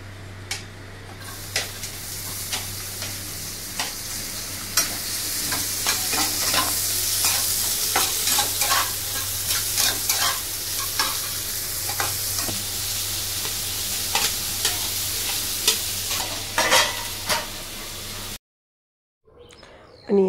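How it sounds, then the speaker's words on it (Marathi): Onion and capsicum fry lightly in oil while being stirred, giving a steady close sizzle with frequent scraping stirs and a constant low hum behind it, before a brief drop to silence near the end. "आपल्याला कांदा आणि शिमला मिरची आहे ना थोडीशी फ्राय करून घ्यायचे"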